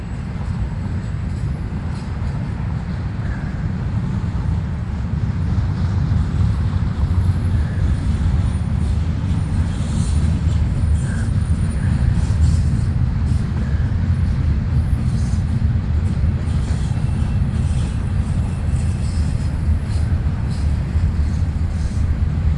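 A freight train carrying mostly empty containers rolls past, a loud, steady low rumble with rattling wheel and wagon noise that holds evenly throughout.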